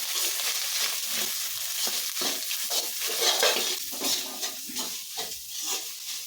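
Boiled eggs are stirred and crumbled in a hot frying pan. A spoon scrapes and taps the pan in a steady rhythm over a continuous sizzle, close and fairly loud, with no voices.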